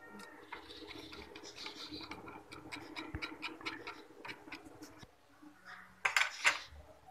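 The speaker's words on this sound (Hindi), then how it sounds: "इसको हम अच्छी तरह से मिक्स कर लेते हैं।" A homemade hand sanitizer mixture with Dettol is stirred in a container, giving light repeated clinks and scraping taps of a utensil against the sides, close and quiet, with a few sharper knocks near the end.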